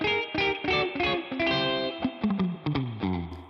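An offset electric guitar played through the middle pickup gives a nasal, Telecaster-like midrange tone. Distorted chords and single notes ring clearly with effects, alone and without talk.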